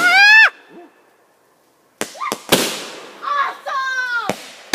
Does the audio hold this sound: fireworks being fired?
yes